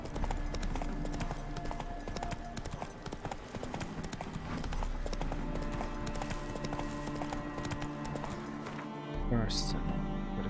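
Horse hooves clip-clop at a steady gallop while riding in The Witcher 3, a continuous near rhythm under a voice, with game music and ambience underneath.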